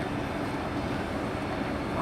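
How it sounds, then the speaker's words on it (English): Former South West Trains unit run by East Midlands Trains at Nottingham station, heard as a steady, loud, broadband train rumble with no pauses and no voices. "Off to Leicester from Lincoln. East Midlands Trains, former South West Trains unit."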